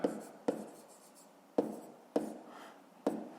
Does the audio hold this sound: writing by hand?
yes